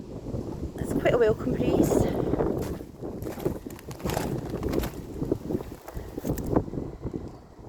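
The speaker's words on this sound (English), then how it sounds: "the wind's picking up" Wind gusts buffet the microphone outdoors in a graveyard, rumbling and rising and falling over several seconds while a person talks over it.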